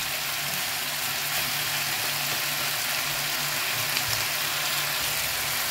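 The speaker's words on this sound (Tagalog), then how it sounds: "Hayaan natin mamula-mula din ang ating sibuyas, ano?" Onions frying in a pan for chicken adobo, giving a steady, dense sizzle that stays loud and even throughout with no pauses.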